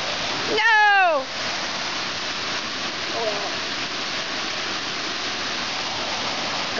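A steady broad wash of falling water from Beaver Creek Falls runs throughout, close and constant, with a brief high whistle-like sweep near the start and a short voice sound in the middle.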